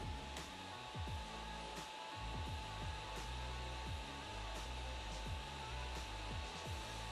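A Therabody RecoveryTherm Cube running on its maximum heat setting gives a steady close electric whir, with a repeating soft clicking pulse under the hum and no one speaking.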